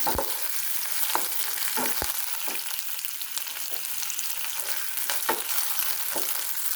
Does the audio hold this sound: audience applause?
no